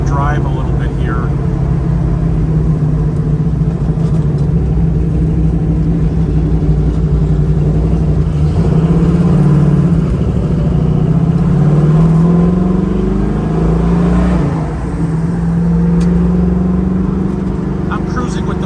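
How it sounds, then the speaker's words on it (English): A 1970 Dodge Challenger cruises with its windows down, the engine holding a steady loud drone with slight rises in pitch, wind rushing throughout and a voice talking over it. "I'm cruising with the windows down."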